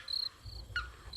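Crickets chirp at night in short, thin high-pitched trills, faint and intermittent over a quiet low background hum, with no voices.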